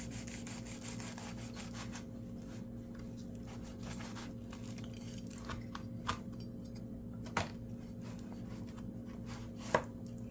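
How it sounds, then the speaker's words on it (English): A knife slicing down through a crunch wrap on a cutting board, giving a few sharp crunchy cuts and taps over a steady low background hum, with no talking. "I'm gonna take a nice knife and I'm gonna cut it right down the middle."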